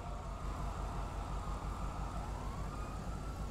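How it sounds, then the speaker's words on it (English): A police siren in a violent street video game wails steadily and faintly, a sustained rising tone over a low rumbling drone, with no voices. "You hear that siren?"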